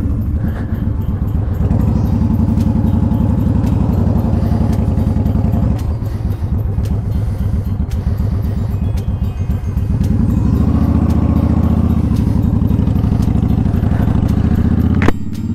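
A Honda Shadow motorcycle's starter cranks with the kickstand down, a loud rapid mechanical churning that runs for long stretches, breaks briefly, then resumes before ending.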